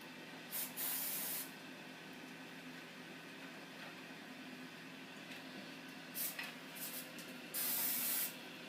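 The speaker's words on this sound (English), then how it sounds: "You want to spray all around the mushroom" Short hissing bursts of Crisco Professional canola oil cooking spray coating a mushroom from all sides and underneath, three separate sprays separated by pauses over a quiet room background.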